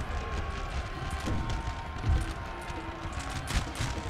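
Musket volleys crackle in a Napoleon Total War battle, a dense, rolling spread of distant gunfire with a few louder bursts standing out above a noisy background.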